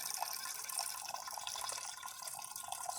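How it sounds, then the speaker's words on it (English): Hot water streams from the spout of a DeLonghi Magnifica S coffee machine in a steady, soft hiss and trickle, nearby and fairly quiet. "There's the hot water."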